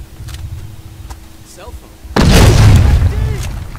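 A sudden loud explosion from explosives in the video game Medal of Honor bursts in at about two seconds, followed by a sustained roaring rumble, after quieter ambient noise with faint voices.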